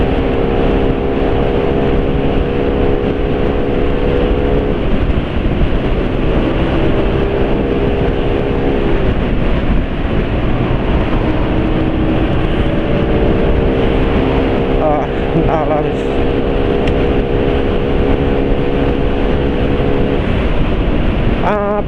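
A motorcycle engine filled with locally made Bardahl 20W50 oil runs steadily at speed, a continuous loud drone with harmonic whine throughout, with a few faint background sounds mixed in.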